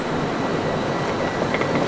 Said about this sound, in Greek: Αυτό είναι το τρένο που μας ταξιδεύει στην Ευρώπη